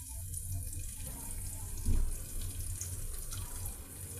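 Water pours in a steady splashing stream into a cooking pan with oil for a few seconds, with a brief thump in the middle and no voices.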